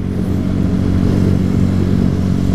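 A Honda CG 125 motorcycle running on ethanol cruises along a highway, its single-cylinder engine droning steadily and close with a dense, even buzz and slight clatter, no talk over it.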